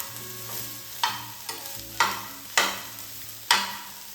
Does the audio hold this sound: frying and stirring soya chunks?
yes